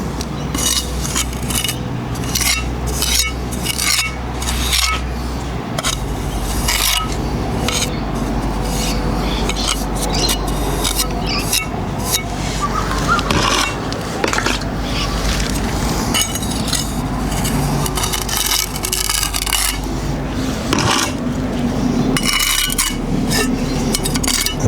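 A wet trowel scrapes and smooths filler on a wall repair, a close, continuous rasping and rubbing with occasional light clinks throughout.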